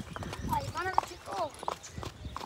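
Horse hooves clip-clopping during a ride, faint irregular hoof taps mixed with voices talking and calling over them, close and uneven.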